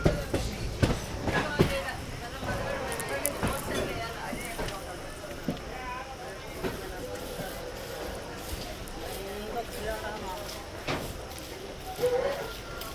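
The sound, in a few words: passing train on track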